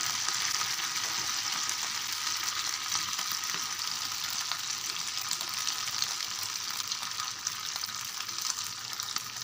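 Pongadalu batter frying in a pan gives a constant bright, hissing sizzle, even and unbroken throughout, heard close up with no speech.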